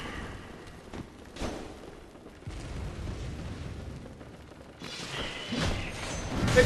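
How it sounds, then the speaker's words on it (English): A video game explosion: a few dull, muffled booms and bursts spread out over several seconds, the rumble growing louder and busier toward the end. "Explosion!"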